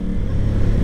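Aprilia Tuono 660 Factory motorcycle under way, a steady low engine rumble close to the microphone, brief and continuous with no talk.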